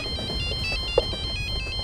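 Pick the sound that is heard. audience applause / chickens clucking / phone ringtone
phone ringtone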